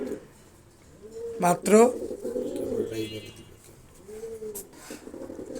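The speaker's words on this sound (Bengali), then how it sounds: "ফুল অ্যাক্টিভ কবুতর, দুইটাই অ্যাক্টিভ কবুতর।" Beauty Homer pigeons cooing close by, two soft rolling coos a few seconds apart beneath someone talking, with a brief flutter of movement between them.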